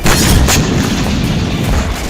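Heavy explosion destroying a Ukrainian tank in Kursk: a loud, close boom at the outset with a brief sharp crack, then a sustained low rumbling roar filling the rest of the short stretch, with no talking.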